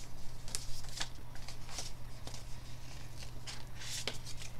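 A baseball card being unwrapped from bubble wrap, close crinkling and rustling with several sharp crackling bursts throughout, no talk.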